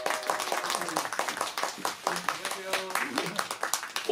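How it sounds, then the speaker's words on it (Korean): Crowd clapping greets a trot singer taking the stage at a music showcase photo session: a moderate, steady patter of applause with voices talking over it throughout. "힘찬 박수 격려 부탁드리겠습니다."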